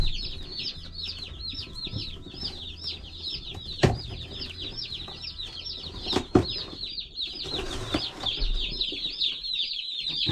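Baby chicks in a box keep up a dense, continuous chorus of high, rapid peeping, close and steady, with a few bumps and rustles of handling mixed in.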